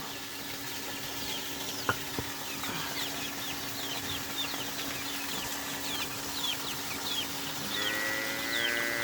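Chicks in a rural village yard being given feed, their small high peeps scattered and faint over a steady outdoor hum, with no talking.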